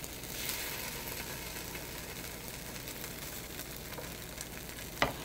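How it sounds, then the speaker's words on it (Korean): Tofu sizzling in a pan as it browns on each side, a steady soft crackle running throughout with one sharp clack near the end. "두부를 노릇노릇하게 앞뒤로 구워줍니다."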